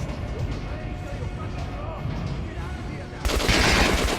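Shots fired at an armored training dummy in Metro Last Light Redux, a steady run of fairly quiet gun bursts ending in a sharper, brighter burst of noise, with some faint game sound underneath.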